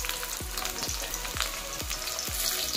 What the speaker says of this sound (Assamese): এতিয়া পিঁয়াজ দি দিওঁ